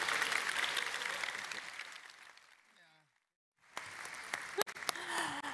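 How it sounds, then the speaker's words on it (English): A conference audience applauds its panel members with dense, steady clapping for about three seconds before it cuts to near silence; sparse noises and a clack follow. "So could you please give a round of applause to our panel members, Jeffrey Boku, Ju-Hyung Lee, and Amy McLaughlin."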